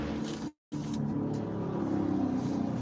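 A car engine revs in a sustained, fairly loud drone with a rising tone, cut by a brief silent gap early on.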